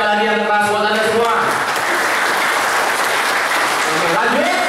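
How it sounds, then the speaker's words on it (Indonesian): Loud, sustained applause from the audience at a sales and marketing training session, a thick wash of clapping that holds steady, with a voice speaking briefly over the start and again at the end. "Tepuk tangan sekali lagi yang keras buat Anda semua."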